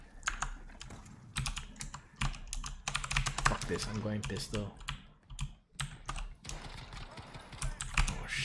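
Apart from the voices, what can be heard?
computer keyboard typing during gaming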